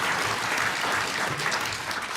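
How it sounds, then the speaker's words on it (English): A conference audience breaks into brief, dense applause, a loud steady clatter of many hands clapping together. "yes indeed, we should applaud Mary."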